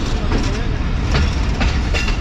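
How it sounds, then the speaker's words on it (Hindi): Tezgam passenger train pulling into Chichawatni station, a steady loud rumble of wagons rolling close by with faint clickety-clack and a few bursts of mechanical noise, no horn. "चीचा वतनी पहुंच गई ट्रेन हमारी"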